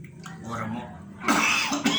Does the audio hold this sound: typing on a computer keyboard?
no